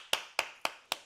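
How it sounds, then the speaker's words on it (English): Four sharp claps ring out alone at an even, steady pace, close and fairly quiet, each with a short fading tail. "let's give yourself a round of applause"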